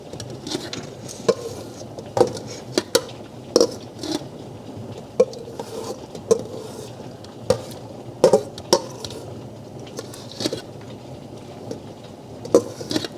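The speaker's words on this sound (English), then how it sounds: "We're gonna put our peppers, jalapenos, onions, garlic." Chopped peppers, jalapenos, onions and garlic tipped into a big stock pot for homemade salsa: a series of irregular clinks, taps and soft patters from vegetables and utensils against the pot, close and moderately loud over faint room noise.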